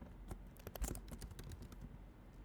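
Quick, uneven keystrokes clatter on a computer keyboard, close and clear, in a steady burst of typing with no talk.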